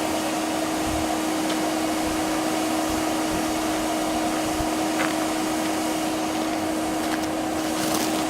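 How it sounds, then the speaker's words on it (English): A vacuum cleaner used to blow out dust runs with a steady, continuous motor whine and airy rush, unchanging and fairly close, with no voices present. "we have a vacuum cleaner to push out the dust"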